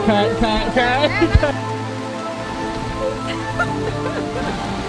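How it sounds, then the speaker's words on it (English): Indoor rain falls inside the Biosphere 2 enclosure as a steady patter over a noisy room background, with voices and other sounds in the first second or so and a quieter, even hiss afterward. "It is actually raining indoors right now."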